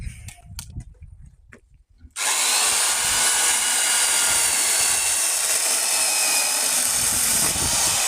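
Grunhelm GES17-35b electric chainsaw cutting small-diameter wood; after a few brief knocks it starts with a loud, steady high-pitched motor whine that runs on without pause, close and dominant.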